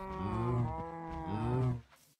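A cow in the Minecraft video game moos in two long, deep, drawn-out calls heard clearly and alone, then the sound cuts to silence.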